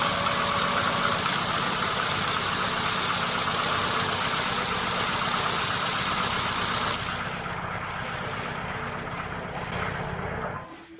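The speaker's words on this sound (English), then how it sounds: "we start the engine and let it run at idle" A car engine idles close by after radiator stop-leak has been added, a continuous low rumble with a constant hum that quiets slightly partway through and fades at the end.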